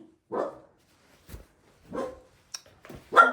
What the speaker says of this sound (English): I don't know why she's barking at the door.